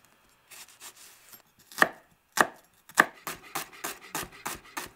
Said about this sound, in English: To start the sauce for the prawns, mince the shallots and set aside.